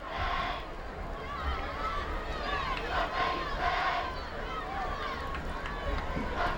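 Crowd noise at a night high school football game between Bettendorf and Pleasant Valley, Iowa, a broad roar with rising shouts and cheers in the stands, steady and somewhat distant, with voices mixed through it.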